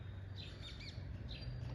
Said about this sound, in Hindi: पक्षी की चहचहाने की आवाज़ बहुत अच्छी आ रही है